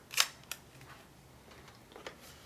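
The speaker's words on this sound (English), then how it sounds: "when you're ready to take the shot, you would cock the shutter" A Graflex Super Graphic camera's shutter being cocked, giving a sharp mechanical click followed by a couple of fainter clicks, close and quiet with no talk.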